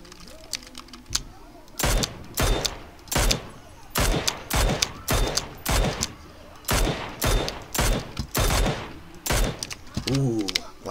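Bursts of rapid automatic gunfire in an online shooter game, about a dozen sharp volleys spaced roughly half a second to a second apart, loud and close, with a brief voice near the end.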